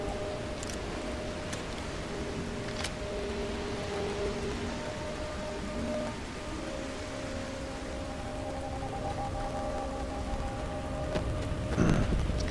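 Steady rain falls in the video game Starfield, a continuous hiss with low tonal ambience underneath and a sharper burst near the end, with no voices.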